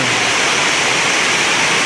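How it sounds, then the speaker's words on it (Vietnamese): Floodwater rushing along a street instead of draining into the sewers, a loud, dense and steady roaring hiss of flowing water with no pauses. "đây toàn là nước chảy ngoài đường thôi không phải là chảy vào cống rồi nhá"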